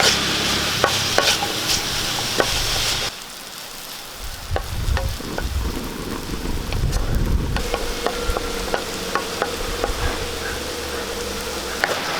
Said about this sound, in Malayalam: പാവയ്ക്ക എണ്ണ ഫ്രൈ ചെയ്യാൻ വേണ്ടി നമുക്ക് കുറച്ച് വെളിച്ചെണ്ണ ഒഴിച്ചു കൊടുക്കാം ഇനി പാവയ്ക്ക നമുക്ക് ഇതിലേക്ക് ഇട്ട് കൊടുക്കാം